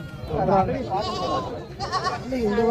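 Jamunapari goat kids bleating at a busy livestock market, several wavering cries close by, overlapping with people talking throughout.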